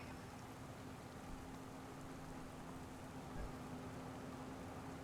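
Rain falling in Farming Simulator 25 during a wet-weather ploughing session, a faint steady hiss of rainfall with a low constant hum beneath it.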